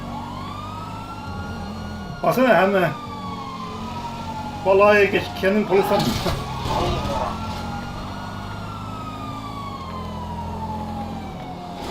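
A police car siren in Grand Theft Auto V wails, rising and falling continuously over an engine hum, while a person speaks in two short bursts.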